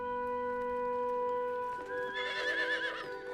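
A horse whinnies with a long, high, wavering neigh rising partway through, close and clear over a faint steady tonal background, with no talking.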